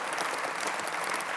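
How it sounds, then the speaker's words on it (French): A brief, steady patter of audience applause at a political campaign speech in Brive, dense hand clapping from a crowd with no voices over it. "je vous demande d'applaudir"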